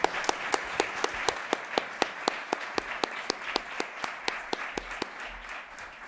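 An audience at an academic year closing and opening ceremony claps steadily, with sharp, evenly spaced claps in a regular rhythm over a soft background of scattered applause.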